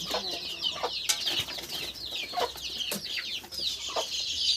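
Chickens cluck in repeated short bursts at close range, with scattered scraping noises between the calls and no talking.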